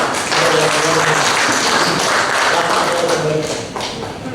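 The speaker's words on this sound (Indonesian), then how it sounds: "kita berikan tepuk tangan sekali lagi untuk kita semua" An audience at a land agency meeting applauds in a dense, steady patter of many hands clapping for several seconds, easing off toward the end, with some voices underneath.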